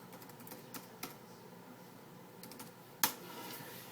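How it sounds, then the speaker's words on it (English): Keys clack lightly on an HP ProBook 4530s laptop keyboard as a password is typed, a few soft scattered taps and one sharper click, close and quiet. "just let me type in my password"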